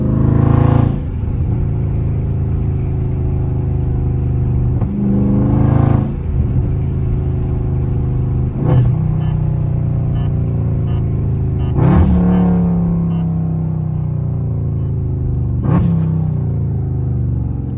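Loud Dodge Scat Pack at full throttle on a humid day, engine rumble climbing in pitch and dropping sharply at several quick, snappy gear shifts spaced a few seconds apart, no talking.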